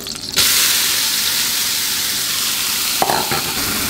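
Meat and onions hit hot butter in a pan, a sudden loud sizzle that bursts in and holds as a steady hissing fry, with a brief clatter near the end.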